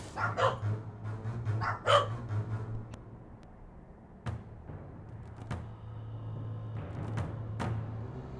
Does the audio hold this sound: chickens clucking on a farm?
no